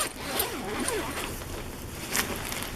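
A sleeping bag zipper is drawn in a few short scratchy pulls, close by and fairly quiet, with faint rustling between strokes.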